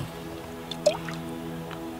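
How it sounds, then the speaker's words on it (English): Water is poured onto freshly pressed soil in a potted plant: a couple of brief, soft drips and a small splash over a low, steady background hum. "give it some water."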